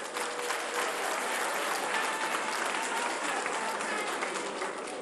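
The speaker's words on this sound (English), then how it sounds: "Another round of applause for Honorable." Sustained applause from a gathering honouring a member of the House of Representatives, a dense, steady wash of clapping that holds at an even level for the whole stretch.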